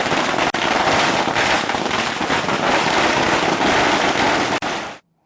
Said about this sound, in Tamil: பட்டாசுகள் வெடித்துக் கொண்டாடினார்கள்